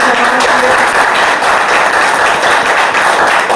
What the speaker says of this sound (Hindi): तो जोरदार तालियां होनी चाहिए।